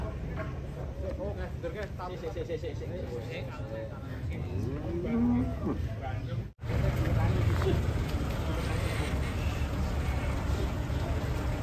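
Cattle low and moo while being loaded onto trucks, amid a constant loud engine drone and rumbling noise, with the animal calls partly buried under the racket.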